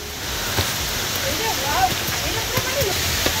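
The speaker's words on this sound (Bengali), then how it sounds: "আর এবার কিন্তু আমরা একদম ঝর্ণার সামনে চলে এসেছি" Waterfall at Panchalingeswar near Chandipur, a steady broadband rush of falling water filling the whole clip at an even level, with faint voices underneath.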